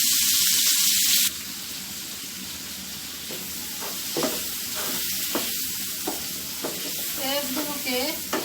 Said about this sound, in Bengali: এখন সেই পেঁয়াজগুলোকে ভেজে নিব।